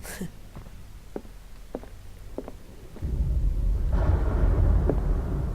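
Thunder in the video game Call of Cthulhu rolls in as a low, swelling rumble midway through, after a few soft footstep-like taps, and lingers loudly to the end with no voices.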